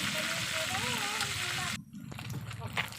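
Steady loud sizzling of tilapia frying in a pan, a dense crackling hiss throughout while a person talks over it, dipping briefly before picking back up.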